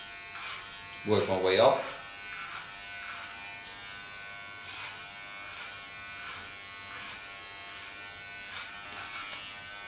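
An electric hair clipper buzzes softly and steadily while trimming and cleaning a hair contour, with a short louder burst early on as someone talks over it.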